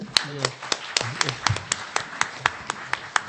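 At a Korean press forum with an invited company chief executive, a small group claps in an even rhythm of distinct, separate claps, with a voice briefly heard at the start.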